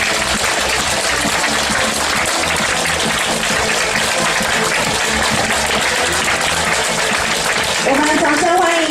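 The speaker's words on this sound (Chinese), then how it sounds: "掌声欢迎他。" Sustained applause fills a business opportunity presentation hall, dense and even for several seconds, with a brief voice rising over it near the end.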